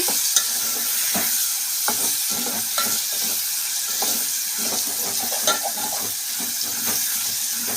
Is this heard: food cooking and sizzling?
yes